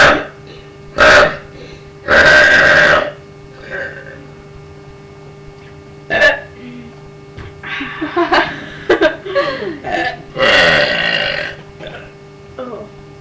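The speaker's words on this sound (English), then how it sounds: "I'm trying to burp." Several loud, close burps come in a contest, long croaking belches with gaps between them, mixed with brief voices, laughter and a steady electrical hum underneath.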